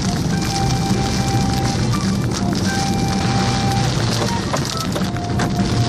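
Hail and rain hammer down steadily through a storm, a dense continuous clatter heard from inside a vehicle with faint engine rumble beneath, loud and unbroken.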